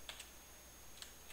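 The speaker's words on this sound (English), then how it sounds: "You can type in" Computer keyboard typing, a few quiet, sparse keystrokes in two short clusters over a low steady background hum, no talking.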